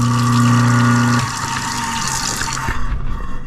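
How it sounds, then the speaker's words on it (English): Cold tap water runs steadily down a kitchen sink's garbage disposal, a constant rushing gush. A humming motor tone drops out about a second in, leaving the splashing water alone and close by. "run a little cold water down there."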